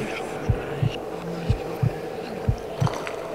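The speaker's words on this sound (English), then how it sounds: "That heartbeat thing is a little noisy." A heartbeat effect in the horror game Abyss: Wraiths of Eden thumps in steady double beats, three pairs of low, loud pulses over a humming background.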